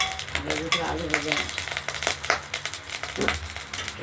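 Potatoes frying in hot oil with spluttering mustard seeds: close crackling sizzle with irregular popping bursts and stirring clatter against the pan, and a quiet voice now and then underneath.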